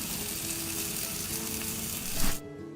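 Continuous hissing sizzle of picanha beef on a hot grill, loud and close, cutting off abruptly near the end.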